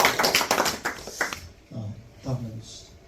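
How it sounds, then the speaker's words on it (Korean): Attendees at a committee meeting break into a short burst of clapping that stops after about a second and a half. A voice then speaks briefly in the quieter room. "박수."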